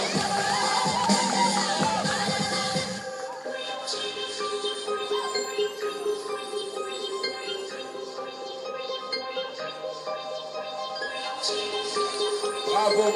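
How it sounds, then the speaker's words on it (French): An audience at a Miss Burundi semi-final cheers and shouts for a contestant, a loud, lively crowd din with ringing tones mixed in, swelling again at the close. "Les femmes qui sont ici, on l'applaudit, hein"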